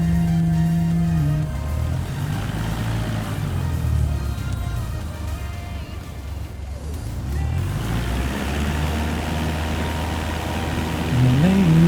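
A Cessna engine in Microsoft Flight Simulator 2024 during the takeoff roll on runway 16, a loud continuous drone with a shifting pitch, no voices.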